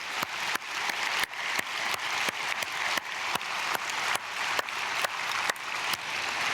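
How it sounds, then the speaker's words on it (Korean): Church congregation applauding at an early-morning prayer service, a steady dense clapping that fills the space, with a few sharper peaks standing out and no talk over it. "박수로 축복하겠습니다"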